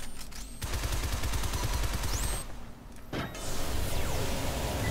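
Rapid bursts of gunfire aimed at a yellow target in the video game Shadow Complex Remastered, a fast rattling volley with sharp electronic sweeps and a brief lull before the shooting resumes, loud and close with no talk.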